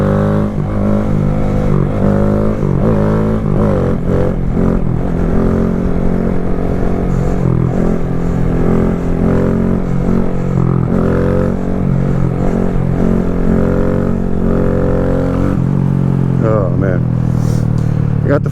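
A small motorcycle being ridden and wheelied, its engine droning loudly and steadily with rising and falling pitch as it shifts into fourth gear, and a rider's voice talking over the noise.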